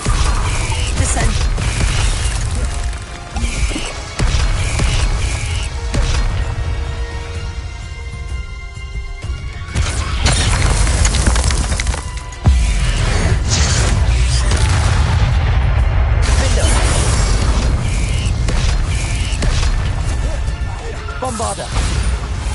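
Heavy booming impacts of the Descendo spell in a Harry Potter game, repeated loud crashes and thuds over a dense, continuous game soundscape.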